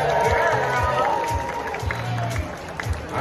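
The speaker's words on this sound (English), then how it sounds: "So give her a round of applause." A crowd applauds for Twiggy, a water skiing squirrel, at a live show, with continuous clapping and some cheering mixed with voices and background music.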